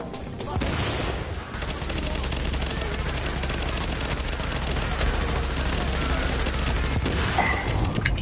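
An LMG in The Division fires sustained rapid bursts at close range, with grenade blasts mixed in, a dense, loud, continuous rattle of gunfire that runs almost the entire time.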